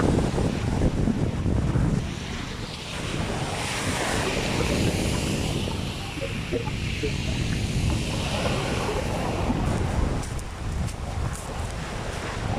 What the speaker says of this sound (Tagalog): At malakas yung alon.